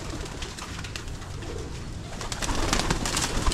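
Young racing pigeons coo repeatedly in a loft, soft rolling calls overlapping from several birds close by, growing a little louder toward the end with no talk.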